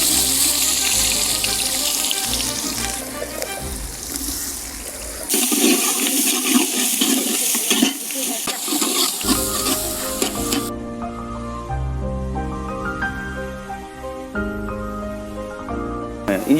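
Chopped onions sizzle and crackle as they fry in hot oil in a pan for chicken do pyaza, a steady close hiss beneath background music.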